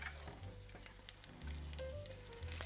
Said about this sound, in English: That's going to be a more aggressive sizzle.